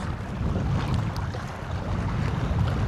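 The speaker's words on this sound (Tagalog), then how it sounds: "Mahangin dito, mahangin." Strong wind buffets a small boat out at sea before dawn, a steady loud roar of gusts and microphone rumble over the wash of water, with no voices.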